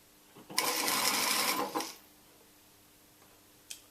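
A sewing machine runs one steady burst of about a second and a half, stitching a small 5 millimeter seam edge to edge in fabric for a cowl neck warmer, then stops, followed by a faint click.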